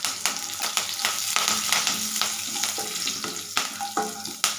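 Curry leaves and cumin frying in hot oil for curd rice, a loud close crackling sizzle with repeated sharp spits and scraping stirs throughout.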